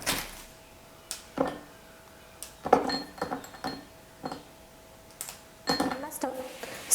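Small pieces of chocolate dropped and broken into a bowl, making a series of light clinks and taps that come in scattered bursts up close.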